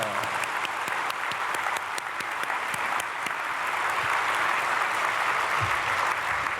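A church congregation claps steadily and loudly for the choir, a dense sustained patter of applause that continues evenly throughout.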